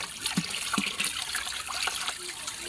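Water from a natural spring trickles and splashes steadily outdoors, a continuous close hiss of running water with small bubbling accents throughout.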